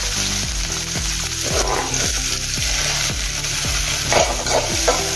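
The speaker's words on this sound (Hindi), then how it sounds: "प्याज डालेंगे कटा हुआ।" Chopped onion added to hot oil already holding cumin seeds, frying with a steady close sizzle throughout, alongside recurring tonal sounds.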